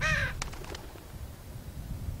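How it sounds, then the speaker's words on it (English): A crow caws once, loud and close, in The Walking Dead Season 2 game, followed by a few faint clicks over a quiet, low ambient rumble. "Oh, look, a bird."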